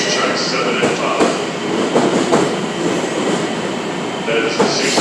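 A Long Island Rail Road M7 electric train rolls through a station, a steady loud rumble of wheels on rails with rhythmic clicks and faint squeals, while a station announcement speaks over it.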